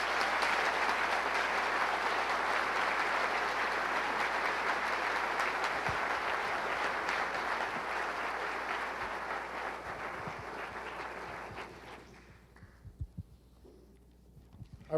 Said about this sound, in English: A round of applause for the General Electric team.